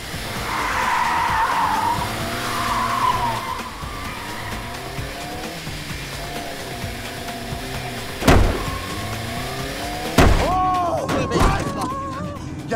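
A car speeds along with tires squealing and skidding in a Turkish comedy chase scene, engine noise running throughout, with several sharp skid bursts toward the end and voices talking over it.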